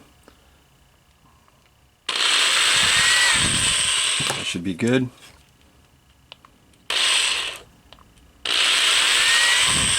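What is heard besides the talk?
power drill drilling into plastic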